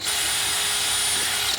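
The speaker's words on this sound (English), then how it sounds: "Then we're going to pre-drill a hole through that." A power drill runs steadily and loudly for about a second and a half, boring a pilot hole through a timber batten for a small garden rail, then stops abruptly.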